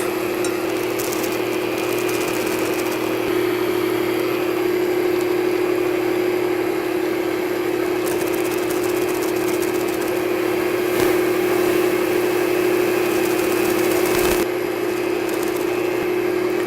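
A steady, loud whir from an electric mixer running at medium speed, beating flour into zucchini bread batter, with a constant motor hum and mechanical rattle throughout, close by.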